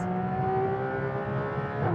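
Porsche 991 GT3 RS on a race track, its engine screaming loudly and steadily near 8,500 rpm, a sustained high-pitched howl with a brief shift at the end, alone without talk.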